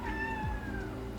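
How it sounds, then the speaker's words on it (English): A cat meows once in a kitchen, a close, clear drawn-out call that slides gently downward, with faint room noise behind it. "She always meows at me when I'm in here cooking or eating."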